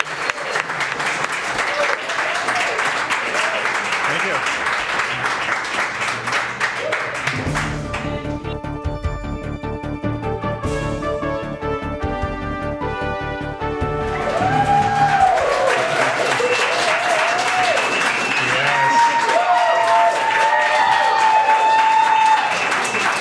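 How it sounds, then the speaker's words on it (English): Audience applause at a live downtown podcast taping, loud dense clapping that fills the room, broken midway by a stretch of music before the crowd noise returns with scattered cheers and voices. "A big round of applause."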